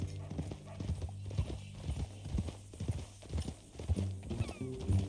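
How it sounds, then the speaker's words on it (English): Horse hooves clip-clop in a steady walking rhythm in the western game Red Dead Redemption 2, close and clear, with a faint snort or whinny near the end. "That new horse?"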